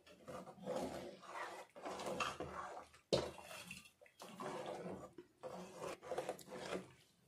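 A ladle stirs soaked sago into a pot for potato sago papad batter, making soft, wet, rhythmic scraping and swishing strokes in repeated bursts with a brief clack partway through, all fairly quiet.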